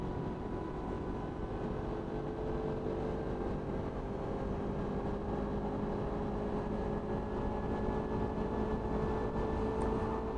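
A Suzuki Inazuma motorcycle cruising at 60 mph and 7,000 RPM, its engine holding a steady, loud drone under a constant rush of wind noise, with no change in pitch throughout.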